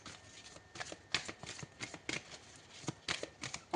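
Tarot cards are shuffled and drawn by hand, giving quick papery riffles and flicks in irregular bursts, close and fairly quiet, with no one speaking.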